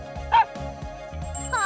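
A toy puppy gives a short electronic bark amid light jingling and background music.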